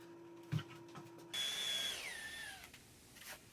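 A power drill whirs briefly while drilling a pilot hole for a hole-saw cutout, its pitch winding down as it slows, after a few soft knocks and clicks; moderately quiet and close.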